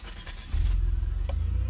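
A 1995 Chrysler Cirrus with transmission shifting problems starting up: a short crank, then the engine catches and settles into a steady low idle close by.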